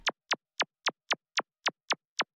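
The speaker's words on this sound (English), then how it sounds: "I took this weird like laser sound and moved it off the grid to follow that hat pattern" Weird laser sound effect in a chill piano beat, nine quick downward zaps spaced evenly like a hi-hat pattern, sharp and bright, fairly quiet and alone.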